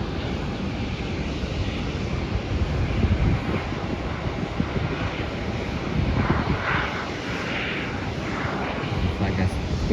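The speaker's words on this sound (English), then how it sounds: "Gulfstream G550." A Gulfstream G550 business jet at Melbourne airport produces a steady, broad engine roar that holds level for the whole stretch, with some wind buffeting on the microphone.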